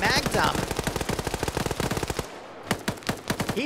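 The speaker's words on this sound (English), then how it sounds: "Korvac now trying to mag dump." Rapid automatic gunfire from a magazine dump in a PvP video game, a long loud burst of close shots that pauses briefly and then resumes with a few more shots.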